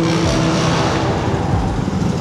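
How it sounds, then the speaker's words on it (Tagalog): Dense road traffic rumbles continuously from inside a car, a steady low engine and road drone with no talk over it. "At grabe ang traffic man, no?"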